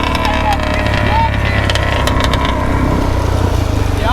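A supermoto motorcycle engine idling and revving nearby, a loud steady throbbing drone that runs the whole time with people chatting over it.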